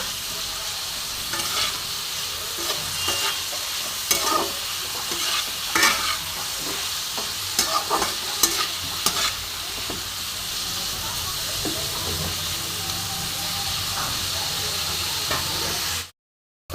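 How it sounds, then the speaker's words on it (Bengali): Radish and mourala fish fry in a pan under a continuous loud sizzle and hiss, with repeated scraping spatula strokes early on, then sizzling alone before cutting to silence at the end. "এটা বেশ সুন্দর একটু ভাজা ভাজা হয়ে গেছে"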